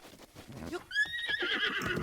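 A horse in The Legend of Zelda: Breath of the Wild gives a loud, quavering whinny about midway, with hoof clops and a voice murmuring faintly before it.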